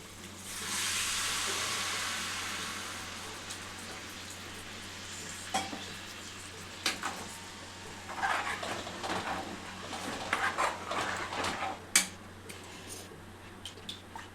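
Tamarind water is poured into a paste frying in oil, producing a steady bright sizzle followed by scattered clicks and knocks of stirring, close and moderately loud.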